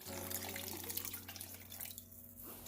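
Water runs steadily from a tap or is poured into a pot of large lima beans with smoked turkey, a continuous close splashing wash that thins out near the end.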